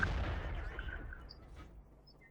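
A loud boom of tank cannon fire from a T69 in World of Tanks opens the moment, then decays into a rumbling tail that fades over a couple of seconds.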